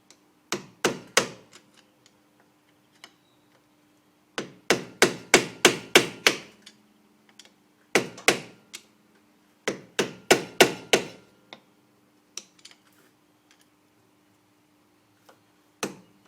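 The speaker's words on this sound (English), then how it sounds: "get the screwdriver under it and lever it up, and we'll give it a bit of a bash" A hammer drives a small chisel under the rear wheel bearing nut of a 1998 Subaru Impreza, giving close sharp metallic blows in quick clusters of four to six strikes, separated by short pauses.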